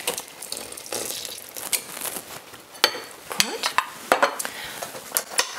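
Cake batter for a redcurrant cake being stirred with lemon juice while oil is trickled in, giving scraping, clinking spoon-against-bowl sounds in an uneven rhythm, close and moderately loud with no talking.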